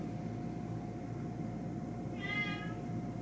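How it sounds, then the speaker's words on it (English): A cat meows once, short and faint, over a steady low indoor hum, fairly distant. "Hana, what do you want? Meow."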